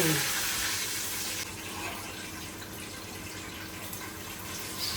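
Water pours steadily into a cooking pot for chicken biryani with a continuous rushing splash, close by and fairly quiet.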